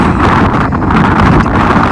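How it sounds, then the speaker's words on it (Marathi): Strong wind buffets the microphone on a hillside with loud, rumbling gusts that swell and ease throughout. "वाऱ्याने तुम्हाला आवाज येतोय का नाही काय माहिती"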